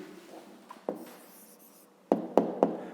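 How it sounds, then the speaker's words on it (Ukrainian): Handwritten answer to a fifth-grade math exercise, pen scratching on paper with a few soft strokes followed by three quick, distinct taps close by, no talking. "Добре, ну а тепер записуємо відповідь. Пишемо відповідь."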